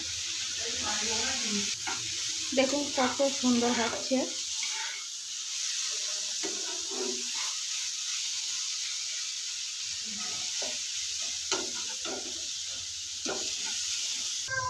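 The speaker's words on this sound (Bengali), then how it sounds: "এইভাবে সুন্দর করে ভাজা করে নেব।" Beetroot frying in a pan makes a soft, steady sizzle with intermittent stirring scrapes, heard under a voice speaking at intervals over the cooking.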